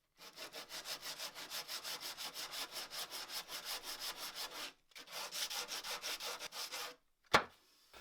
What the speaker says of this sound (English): take your really tough grit sandpaper with a flat wooden block and just kind of hold it around it. It gives it a nice flat surface, and just sand over those edges